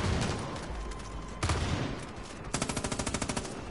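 Automatic gunfire in the video game Far Cry 5: a dense, loud burst of rapid shots, a brief pause, then another sharp rattling volley of evenly spaced reports near the end.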